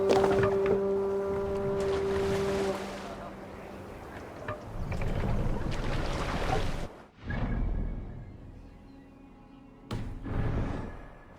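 Water sloshes and splashes around a rowed Viking longship in Assassin's Creed Valhalla, with steady wind and waves. A sustained tone sounds early on, and there are a few louder surges toward the end.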